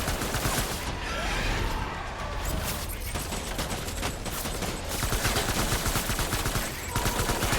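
Dense rapid gunfire fills a Death Stranding video game firefight, continuous bursts and rattling volleys with a voice talking over parts of it.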